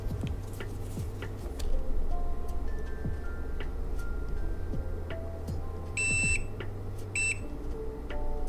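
An electronic device under repair gives off short beeps and ticking tones over a steady low hum, with a brighter double tone near the end and no talking.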